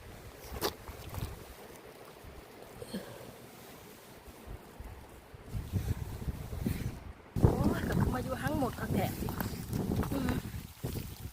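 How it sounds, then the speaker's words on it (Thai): Dry wind gusts outdoors in the countryside while mushrooms are gathered along a path, a rough blustery rush that buffets the microphone and strengthens toward the end, with people talking throughout. "ลมบืดบืดบืดอยู่"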